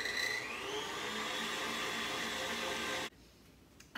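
An electric mixer with a whisk attachment whips an ingredient for blueberry lemon scones, giving a loud, steady whirring drone whose pitch climbs early on before it cuts off abruptly near the end, leaving near quiet.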